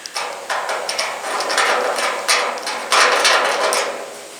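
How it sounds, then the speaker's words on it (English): Knife prying old Bondo body filler out of holes on a 1973 K10 truck, a series of close scraping, cracking and popping bursts with irregular sharp clicks and no talk. "Just take your knife, pop it."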